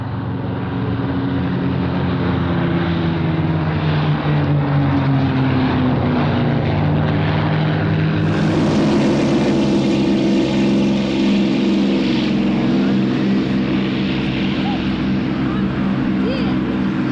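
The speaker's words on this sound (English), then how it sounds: "P-51D Mustangs, known affectionately as the Cadillacs of the Sky, take off" Several P-51D Mustang warbirds, WWII propeller fighters, take off at an airshow at Wanaka, their engines droning loud and steady with a rising, shifting pitch that swells after the midpoint, with some speech mixed in.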